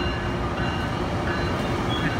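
A Tri-Rail commuter train at Dania Beach station rumbles past close by, a loud continuous roar of wheels and cars with no talk.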